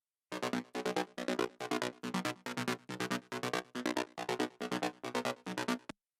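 Mid chugger synth: a rhythmic trance synth plays short, evenly spaced gated chords in a steady chugging pulse, about a dozen hits, standing alone at moderate level.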